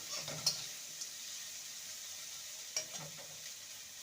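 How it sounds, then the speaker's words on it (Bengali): Sliced bitter gourd fries in a pan with a little turmeric, giving a quiet, steady sizzle with a few light clicks and knocks from the pan. "উচ্ছেটা ভাজা হয়ে আসছে আর একটু ভাজা হবে"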